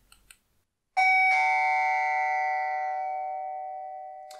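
Aeotec Doorbell 6 chime rings out one bright, sustained bell tone that starts suddenly, adds a second strike moments later and slowly rings away, heard clearly close up after a couple of soft clicks.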